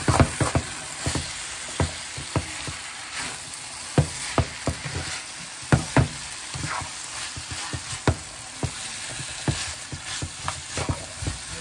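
Potatoes fry in an onion masala, a continuous sizzle under frequent rhythmic knocks and scrapes of a stirring spoon against the pan, close and fairly loud throughout with no speech.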